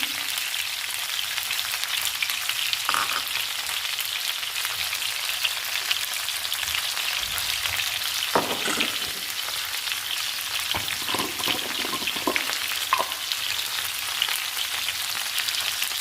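Okra pieces fry in a pan with a steady, dense sizzle that crackles like light rain, close and even throughout, with a few soft stirring scrapes partway through.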